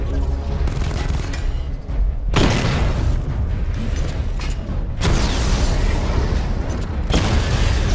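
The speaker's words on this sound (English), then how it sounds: "Destroy targets to charge up weapon energy and activate missile barrage" Heavy missile barrage explosions from the Batman: Arkham Knight video game boom in loud, rolling waves, with fresh blasts erupting every couple of seconds over a constant rumbling roar.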